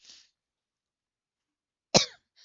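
A single sharp cough, close and loud, with a faint breathy rasp just before and after it, otherwise silence.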